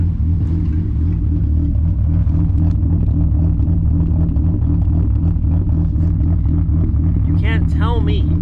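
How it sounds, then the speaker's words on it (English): Volkswagen Golf 3 with the 12-valve VR6 engine, a loud, steady low rumble from close by, running throughout, with a brief higher sound near the end. "just the sound of the VR6"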